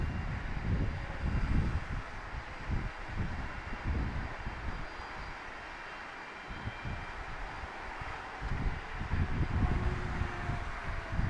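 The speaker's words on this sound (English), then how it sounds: "United Airlines coming in from Sacramento" A United Airlines plane arriving from Sacramento at John Wayne Orange County Airport produces a low, rumbling jet roar that swells and fades across the clip, steady and moderately distant with broad wind-like noise.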